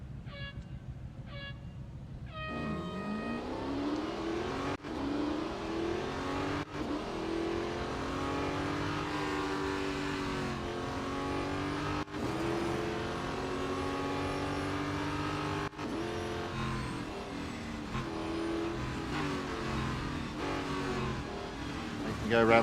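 Race car engines roar through a lap of the national circuit at Hockenheimring in the Real Racing 3 mobile game, a continuous loud revving drone with rising and falling pitch as gears shift, several cars audible together.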